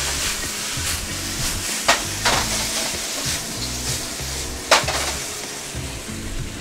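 Beef frying in oil in a round-bottom wok that is rotated and stirred, giving a steady loud sizzle with a few sharp scraping clanks of the spatula against the pan.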